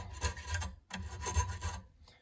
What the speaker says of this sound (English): We're going to deburr where we drilled here real quick, just with a file.